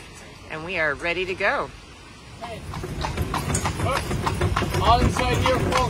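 A horse pulls a carriage through Killarney National Park in Ireland. A voice talks briefly at first, then steady clip-clopping hooves and rolling carriage noise follow at a moderate distance.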